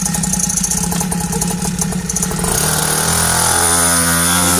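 A Motax Mini Cross 49cc mini pit bike engine runs with a buzzy, chainsaw-like note, first idling with rapid pulsing, then revving to a louder, higher steady whine.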